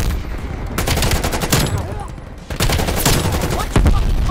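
Rapid automatic gunfire from a Krig 6 rifle in the video game Black Ops Cold War, loud dense bursts of shots with a brief pause midway before the firing resumes.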